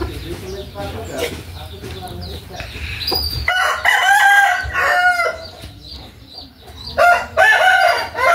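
A rooster crows repeatedly, loud and close, with drawn-out calls and some clucking among farm fowl and other bird sounds.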